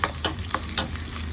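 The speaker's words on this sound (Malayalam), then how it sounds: "തേങ്ങാക്കൊത്ത് കൂടെ വറുത്തിടാം." Small chopped coconut pieces fry in ghee in a pan, a steady crackling sizzle with a few louder pops and stirring scrapes, close and continuous, with no voices.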